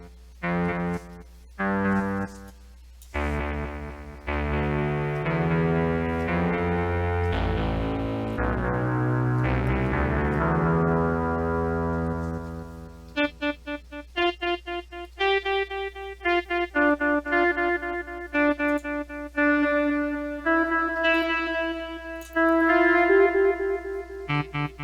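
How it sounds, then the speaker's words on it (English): A Luna delay effect in Propellerhead Reason 10 repeats a distorted synth line, at first a dense, smeared wash of echoing notes, then short plucked notes that bounce and trail off in a ping-pong pattern. "Let's go ahead and send some of the signal to the delay here."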